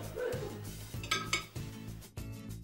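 Pizza set onto the metal grill rack of a microwave oven: a series of clinks and light metallic knocks, close and fairly loud, spaced irregularly with no talking.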